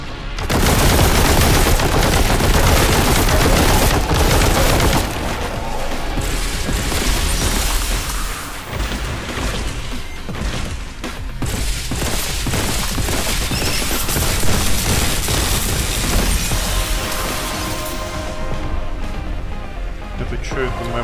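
Rapid heavy gunfire from the player's bolt gun in the shooter Warhammer 40,000: Boltgun, loud sustained bursts with booming impacts and explosions, continuing nearly the whole time with brief lulls.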